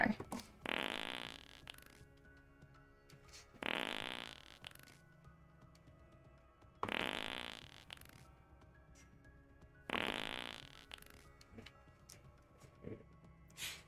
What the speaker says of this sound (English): He just had to get his daily farts out, guys.